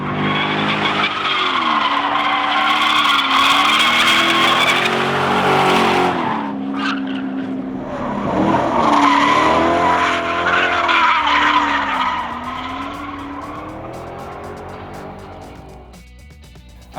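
A Corvette drifts with loud, sustained tire squeal and skidding over a revving engine, one long slide, a short break, then a second long slide that fades near the end.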